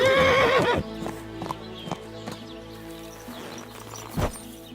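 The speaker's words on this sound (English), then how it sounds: "That looks like a bloody expensive horse." A horse in the medieval video game Kingdom Come: Deliverance II gives a loud, close whinny, followed by scattered clip-clop hoofbeats and snorts over a quiet backdrop.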